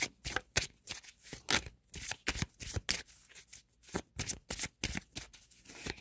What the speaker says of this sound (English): I'll pull another card for you.